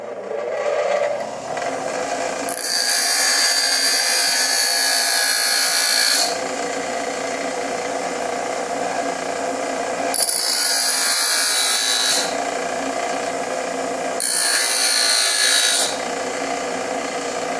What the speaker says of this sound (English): While I'm here on the grinder, I'm going to go ahead and cut the 3 little notches into this.